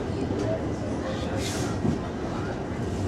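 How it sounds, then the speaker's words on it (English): A London Overground train runs along the line, a steady, moderately loud rumble with faint rail clatter throughout, while a brief quiet voice sounds partway through. "we then caught the London Overground back to Highbury and Islington"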